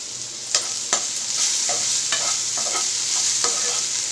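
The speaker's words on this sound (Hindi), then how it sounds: "इसको थोड़ा देर और भूनूंगी" Potatoes frying in a pan give a steady bright sizzle, broken every half second or so by scraping stirs of a spoon, close and alone with no talk.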